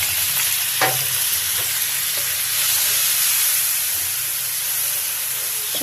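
Broth poured into a pan of sizzling vegetable curry, a steady loud frying hiss throughout with a brief splash-like burst near the start and faint stirring noises.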